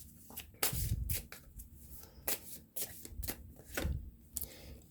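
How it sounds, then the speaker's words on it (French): Tarot cards are shuffled and drawn by hand, close and soft, in bursts of riffling, flicking and sliding card noise with short pauses between them, and no talking. "je vais aller tirer 2 ou 3 cartes ici"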